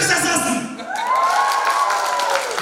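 A crowd at a celebration erupts in loud cheering, whooping and shouting with applause mixed in, a dense near wall of voices, with one rising shout held over the din.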